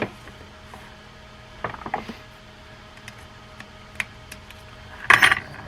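Click-style anti-reverse ratchet on a Hurricane Mako 55A spinning reel: small metallic clicks and ticks come in scattered bursts over a quiet background, ending in a brighter rattling cluster of clicks. Close and crisp, with no talking.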